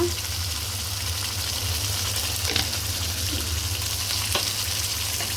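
Food frying steadily in a pan, a continuous sizzle with occasional scrapes of a spoon stirring it as it cooks toward golden, no talk.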